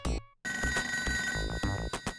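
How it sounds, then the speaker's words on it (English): Ringing telephone in the video game ToeJam & Earl, a bright electronic ring that cuts off briefly and then keeps trilling in rapid repeated bursts over game music, loud and close. "There's a phone somewhere."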